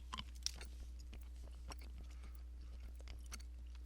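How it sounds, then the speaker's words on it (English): Someone chews a Tootsie Roll candy close to the mic, making faint, soft, irregular wet mastication sounds over a steady low electrical hum. "Chewing on Tootsie Roll."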